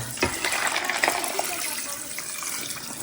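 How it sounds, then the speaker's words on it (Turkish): Meat broth poured from a container over a bowl of dog food mixed with pasta, bread, kibble and egg, a close continuous gushing splash that starts abruptly and runs steadily for about three seconds. "Üzerine şöyle et suyu. Bakın. Şöyle dökelim."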